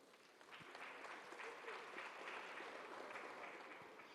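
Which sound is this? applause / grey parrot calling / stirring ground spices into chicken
applause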